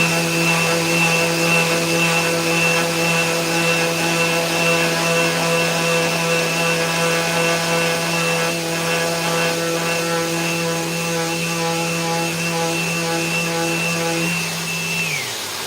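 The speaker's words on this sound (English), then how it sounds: "Sanders are hardly touching this timber. It is solid, fair play." Power sanders work solid timber with a loud, steady motor whine that holds evenly, then winds down near the end, with no talking.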